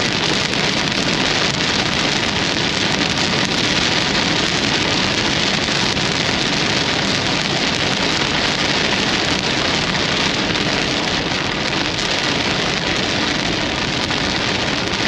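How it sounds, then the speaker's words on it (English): Heavy rain pours down steadily in a severe North Dakota supercell thunderstorm, a dense, loud and unbroken roar of rain on surfaces with no voices heard. "Wow, there's a severe thunderstorm."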